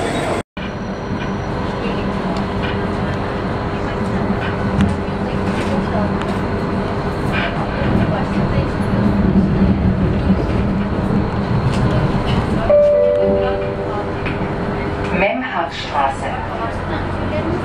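A Flexity Berlin tram passes on a Berlin street, a steady, loud rolling rumble of wheels and motors that lasts throughout, with a brief metallic squeal near the end and voices faintly underneath.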